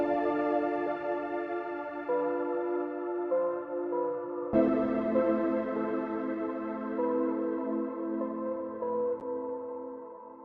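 A layered electronic melody, built in FL Studio and played with all layers together: sustained synth chords with a bright upper line that shift at steady intervals and swell at one change midway, with no voices.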